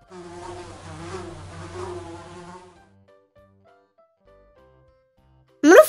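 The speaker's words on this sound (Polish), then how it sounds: "Mucha." A housefly buzzes in a steady, close drone for nearly three seconds, then stops, leaving quiet before a short bright chime closes the sound.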